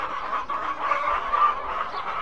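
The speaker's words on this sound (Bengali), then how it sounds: "অরিজিনাল টাইগার মুরগির বাচ্চা" A flock of Tiger breed chicks at a farm in Thakurgaon keeps up a steady, dense chorus of clucking and cheeping, close and continuous, with no talking.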